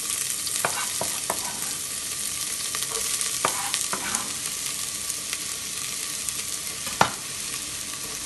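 Chopped onion and curry leaves sauteing in hot oil for chana masala, a steady close sizzle and fry with occasional stirring clatters of a spoon against the pan.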